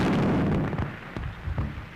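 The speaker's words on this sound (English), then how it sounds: "But what were those explosions? Shells, my dear." Artillery shells exploding near a palace in a 1931 film, a heavy rumbling blast that fades, followed by a few sharper distant bursts.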